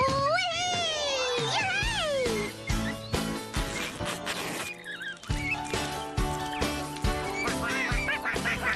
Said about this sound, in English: Oh, hello, Mommy Duck. Hello, little ducks.